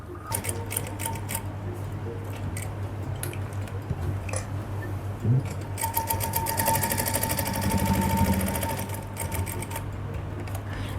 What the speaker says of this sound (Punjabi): ਆਪਾਂ ਹੁਣ ਲਾਵਾਂਗੇ ਕਟਾਵਾਂ ਤੇ ਸਲਾਈ